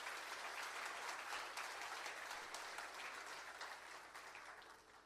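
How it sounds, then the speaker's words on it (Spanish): Congregation applauding in a church service during a Spanish-language sermon, steady loud clapping from many hands throughout, no voices over it. "Démosle un fuerte aplauso al Señor Jesucristo"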